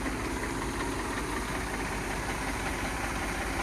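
A 2009–2010 Eicher 333 tractor idling nearby with a steady, dense low rumble and mechanical clatter that holds constant throughout.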